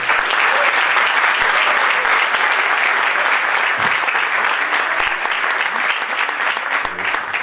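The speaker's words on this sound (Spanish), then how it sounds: "Y les pido un gran aplauso para los dos profesores" Sustained applause from a large seminar audience, dense steady clapping filling the whole stretch at an even, loud level.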